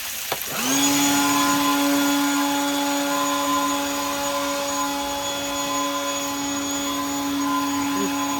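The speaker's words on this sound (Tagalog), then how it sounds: "Blower po ginagamit nila." A leaf blower runs at a home in Texas, a loud, steady motor whine and rushing air holding one sustained pitch for several seconds after a sharp start, close by with no voices.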